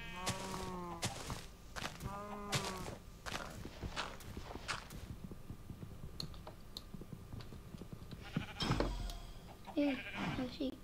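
Several sheep bleats from the Minecraft video game come up in the first few seconds, clear and close, over clicking and footstep sounds, followed by a person speaking later.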